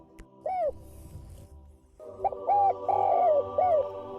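A zebra dove (perkutut) in a harvested rice field gives a single coo, then a quick series of soft, rolling coos at close range over low background noise.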